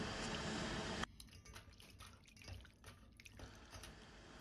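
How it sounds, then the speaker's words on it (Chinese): Soaked dried wood ear mushrooms are rinsed in clean water: a splash and pour at the start, then quiet sloshing, dripping and trickling close by, faint and without talk. "然後再放入清水中多清洗2遍，至水清亮沒有泥沙後再撈出。"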